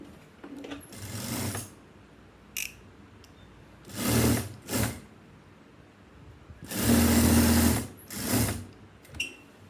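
A sewing machine stitches a shoulder cape seam in several loud, close bursts of rapid whirring, each a second or so long, with quiet gaps between runs.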